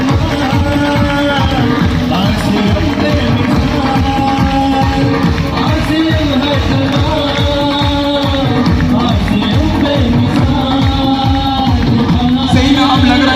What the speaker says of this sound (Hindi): तो एक बार जोरदार ताली बजाएंगे